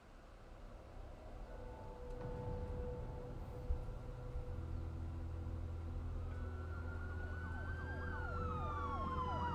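Wailing police car sirens in a video game rise and sweep continuously over a low engine rumble, growing louder and more layered toward the end.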